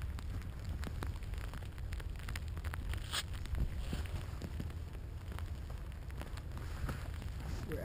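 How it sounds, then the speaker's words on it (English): Steady rain pours down continuously at Seawolf Park, a fishing spot, with a dense hiss and scattered patters, no voices over it. "It's still raining."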